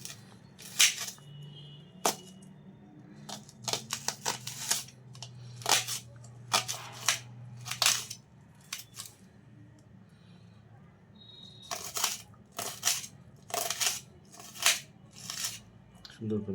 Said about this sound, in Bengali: পেঁয়াজটা আপনি এভাবে সুন্দর করে চিকন চিকন করে কেটে নেবেন।